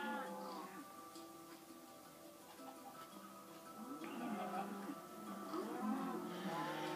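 Minecraft cows moo in the video game, overlapping lowing calls at moderate loudness that build in number toward the end, against a faint game background.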